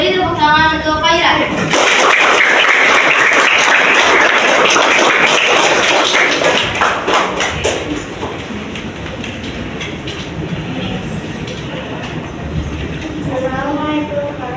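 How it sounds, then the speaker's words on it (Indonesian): Elementary school students in a classroom applaud a classmate, a dense burst of clapping that swells and then gradually fades over several seconds, with voices around it. "Beri tepuk tangan untuk Kaira."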